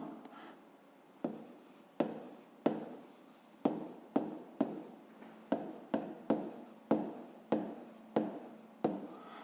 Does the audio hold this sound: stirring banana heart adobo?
no